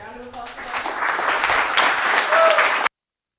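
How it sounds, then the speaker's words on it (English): Applause from the audience at the close of a tech meetup talk on climate change, a full burst of clapping that swells steadily for about three seconds, then cuts off abruptly. "round of applause for that"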